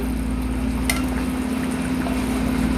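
A pot of mutter chicken curry simmers toward a boil with a steady soft bubbling and low hum, a faint clink partway through and no talking.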